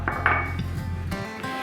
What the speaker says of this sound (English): Mix that up all good. And I'm using my Danish dough whisk.